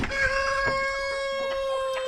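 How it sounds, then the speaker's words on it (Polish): A young rooster crows once nearby, a long sustained harmonic call that rings out clearly over faint farmyard background noise. "O, kogutek fajnie pieje."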